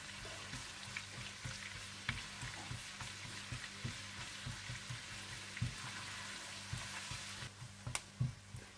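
Julienned ginger frying in a pan for a chicken dish, with a soft, steady sizzle and scattered small crackles and stirring clicks throughout, fairly quiet and close, with no voices.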